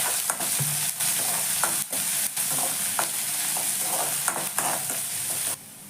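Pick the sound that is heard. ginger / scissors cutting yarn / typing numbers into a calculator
ginger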